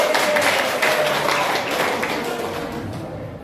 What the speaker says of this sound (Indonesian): tepuk tangan untuk Bapak Agus